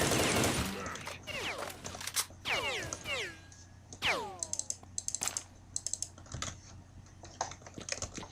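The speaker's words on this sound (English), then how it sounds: "is there a guy all the way over there shooting at me?" Scattered gunshots in S.T.A.L.K.E.R. Shadow of Chernobyl sound as faint, distant sharp cracks and short rattling bursts, mixed with sweeping whistling tones in a quiet outdoor scene.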